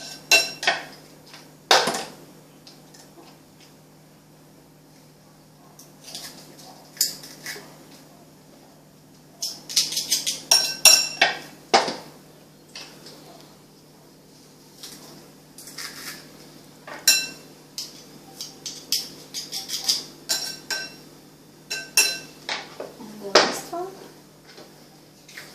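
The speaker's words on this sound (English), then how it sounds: "just going to take this garlic and press it right into" Garlic squeezed through a metal garlic press onto a plate, giving scattered clinks and sharp metallic clacks of kitchenware spread across the clip, with quiet pauses between bursts.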